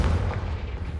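Confringo fire blast spell in a Harry Potter video game, a single loud, heavy booming burst with a deep rumbling tail over about a second.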